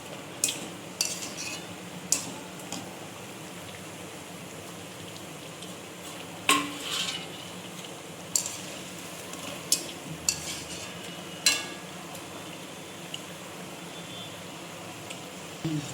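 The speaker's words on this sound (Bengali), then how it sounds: "আমার বড়া ভাজা হচ্ছে, কি সুন্দর বড়া ভাজা হচ্ছে দেখো" Lentil fritters (bora) fry gently in a pan on a stove, giving a soft, steady sizzle under sparse clinks and taps of a spatula against the pan at irregular intervals; quiet and close, with no talking.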